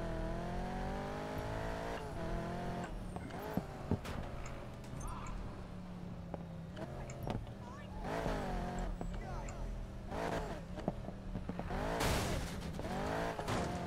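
A revving muscle car engine in the video game Need for Speed Payback roars and shifts pitch repeatedly, with sharp bursts and tire noise, under occasional talking.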